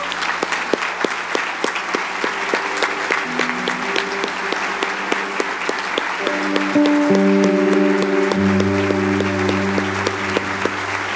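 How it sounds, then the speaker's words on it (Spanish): Sustained clapping from a church congregation at a Christmas service. The dense applause runs steadily throughout, with sustained musical tones entering over it partway through, and no one speaks. "Pongámonos todos de pie y le damos un aplauso al Señor Jesús."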